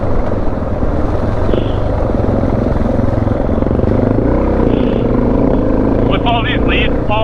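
Honda XR650L dual sport motorcycles on a leaf-strewn old rail trail, with a loud steady engine drone close by and wind rush under it, plus a few brief higher tones.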